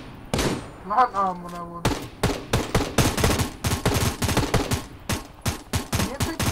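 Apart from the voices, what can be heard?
M4A1 rifle gunfire in Knives Out video game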